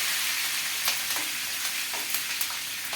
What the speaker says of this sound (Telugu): కొద్దిగా ఫ్రై అయినాక కరివేపాకు అయితే వేసుకున్నామండి